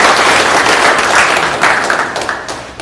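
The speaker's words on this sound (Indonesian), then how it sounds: "Beri aplaus dulu" An audience at a union assembly breaks into applause, a dense loud burst of many hands clapping that carries on steadily before tapering off near the end.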